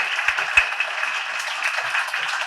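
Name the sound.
audience applause for the teacher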